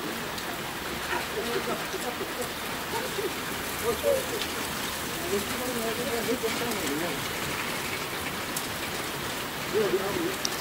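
Heavy rain falls at night beside a river in Trabzon, Turkey, a steady broadband wash with voices talking faintly over it throughout.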